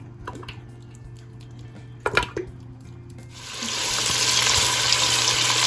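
Sliced onions hit hot oil in a pan for a bottle gourd (ghiya kaddu) dish, and after a few quiet taps a steady, close hiss of frying rises and holds to the end.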